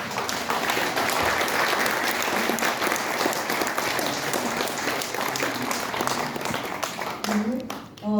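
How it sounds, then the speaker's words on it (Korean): A crowd applauds steadily for several seconds at a political rally in Korea, a dense, sustained clapping that fills the hall before tapering near the end. "박수로 맞아 주시기 바랍니다."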